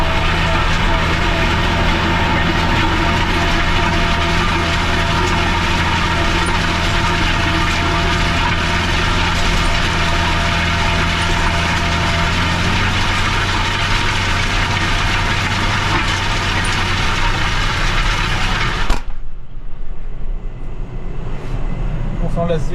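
McCormick MTX 110 tractor engine pulling a plough in a field, a loud steady low drone with a constant hum that cuts off abruptly near the end, leaving faint background noise.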